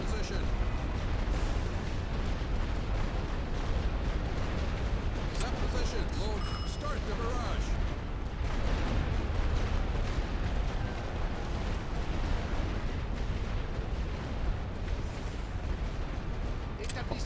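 Artillery fire from a video game set in the Second Battle of Ypres, with booming blasts and rumbling explosions rolling on under a steady background din while a voice talks at times.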